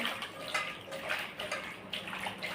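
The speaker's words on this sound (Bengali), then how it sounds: "সবগুলো একসাথে আমি সুন্দর করে পরিষ্কার করে দুবার ধুয়েছি, আবার ধুয়ে নেব" Cut hilsa fish pieces are rinsed in water, with close splashing, sloshing and running-water sounds coming in uneven surges and no voices.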